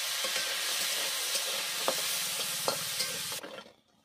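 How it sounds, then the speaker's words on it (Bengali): Bori lentil dumplings fry in hot oil left over from frying bitter gourd for shukto, a dense, steady sizzle with a few soft clicks of stirring that drops away abruptly near the end. "ওই তেলে বড়িগুলো ভেজে নেব।"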